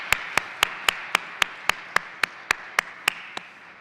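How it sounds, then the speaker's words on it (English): Hands clap in a steady, evenly spaced rhythm, each clap sharp and distinct and about four per second. The clapping is at an opening keynote of an academic conference, is fairly close, and fades slightly toward the end. "give a round of applause for these amazing students"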